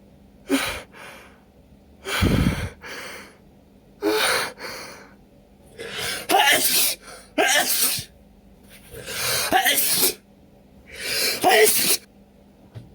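A person sneezes repeatedly in a long fit, about eight loud, close, explosive bursts spaced a second or so apart, with sharp inhaled gasps and breaths between them.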